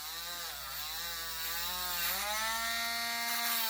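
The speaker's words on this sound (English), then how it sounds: "Then we just ream it out a little bit to make it the size we want." Steady high rotary-tool whine as a hole is reamed through a wet quahog clamshell for jewelry, its pitch shifting slightly as the bit bites into the shell, loud and continuous with no voices.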